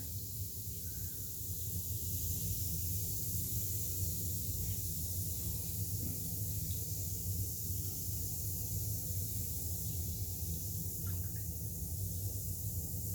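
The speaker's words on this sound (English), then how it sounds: "I was a little disappointed on how fast that bath bomb fizzed away" A constant fizzing hiss of a Lush Splash bath bomb effervescing in bathwater, steady and even over a low rumble, with no voices.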